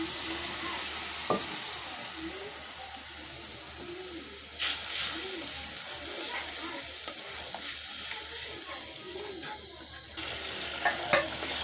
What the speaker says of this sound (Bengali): মশলাটা কষে আসছে,